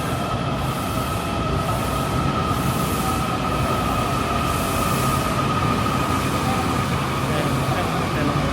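A metro train moves through Metro Center station in Washington DC, a continuous loud rumble with a high wheel whine running throughout and faint voices mixed into the station noise.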